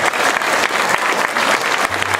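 An audience applauds intermediate-level high school jazz band students, freshmen and sophomores, at a seaside jubilee; dense, steady clapping fills the whole stretch, loud and close, with no voices over it.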